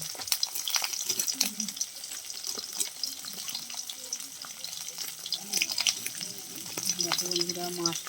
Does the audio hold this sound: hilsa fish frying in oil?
yes